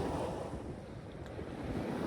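Sea waves wash onto the shore at Odesa in a steady, full rush of surf mixed with wind buffeting the microphone, continuous and close, with no voices.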